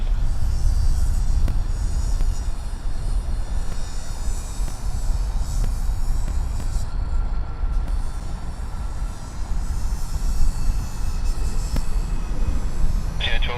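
A Qantas airliner lands at Sydney Airport, a steady broadband roar of engine and rolling noise sitting far off and constant throughout, with no talk over it.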